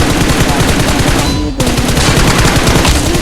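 Rapid gunfire from the BGMI video game's training mode rattles loud and continuous, with dense repeated shots and a brief break in the middle.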